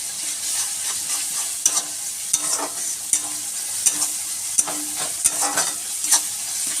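Ginger garlic paste sautéing in hot oil with cooked onion and tomato, a steady sizzle punctuated by regular sharp scrapes and taps of a spoon stirring against the pan.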